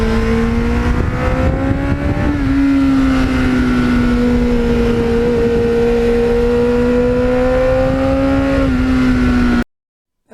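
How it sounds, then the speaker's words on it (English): A restored 1989 Kawasaki Ninja GPX750R fitted with a MUZZY muffler idles and revs close by, its loud, steady engine note rising and falling in pitch a few times before cutting off. "the MUZZY, oh, I just love that sound."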